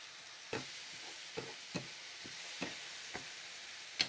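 Dried mango pieces sautéed in a pan for a Jaffna Tamil dish, a soft steady sizzle broken by a few sharp spoon scrapes and taps at irregular intervals, close and fairly quiet.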